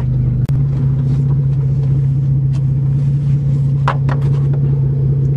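A Toyota manual transmission car sits stopped at a farm with its engine idling, a steady low rumbling hum throughout with a few faint clicks and knocks over it, no talking.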